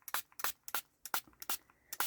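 A spray bottle mists water over watercolor paints in a quick run of about eight short hissing bursts, close and evenly spaced.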